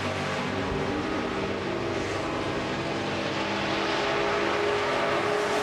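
Supercharged 5.4-liter Ford Mustang factory drag race car at a four-wide nationals drag strip: a loud, steady, roaring engine drone held throughout, with no talking.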